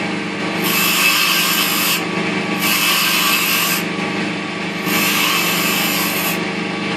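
A wooden snowman ornament spins on a lathe while a tool cuts it: a loud, constant motor hum and whir, with a scraping hiss that swells and fades in repeated passes of about one to two seconds.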